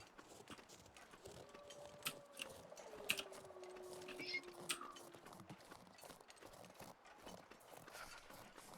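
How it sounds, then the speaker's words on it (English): Quick clicks from a computer keyboard being typed on sound close and fairly faint, in irregular bursts over game sounds and a low murmur. "you hear my keyboard there, Mercier?"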